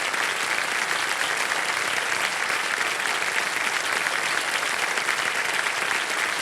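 Sustained studio audience applause on a Hindi TV quiz show set, dense steady clapping that fills the space evenly from start to finish with no talking over it.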